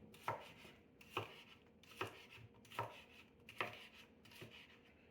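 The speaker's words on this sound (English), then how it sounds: "cut the cucumbers and put them into the pot" A knife chops cucumbers for gazpacho on a cutting board in steady, evenly spaced thuds, about six firm strokes close by with no talking.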